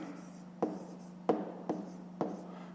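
Pen writing a fifth-grade math solution by hand on paper, four short distinct scratchy strokes at a steady pace, close and fairly quiet over a low steady hum, no talking.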